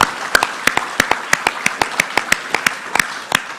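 Clapping for performers at Ballina Shire Australia Day celebrations, sharp and close, a small group beating out an even rhythmic clap at roughly four claps per second throughout.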